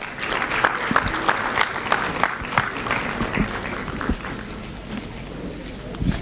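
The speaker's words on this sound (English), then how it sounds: "Let's give them all a round of applause." Audience at a junior high annual school day in Nairobi clapping for award winners, steady dense applause from a crowd in a hall, fairly loud and continuous, tapering slightly toward the end.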